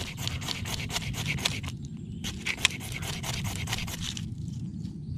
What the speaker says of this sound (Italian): Questo qui è il magnesio. Andiamo a grattare sulla nostra esca.